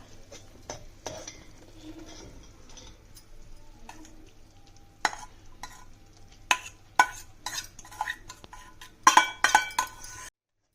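A spoon stirs flattened rice into jaggery syrup in a metal pot, quiet at first, then a run of scraping strokes and clinks against the pot that grow louder and more frequent toward the end.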